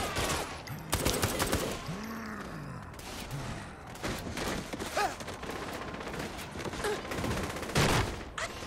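Gunfire in the Saints Row: The Third video game: sharp repeated shots and bursts at close range, mixed with impacts, grunts and other game noise in a busy, chaotic mix.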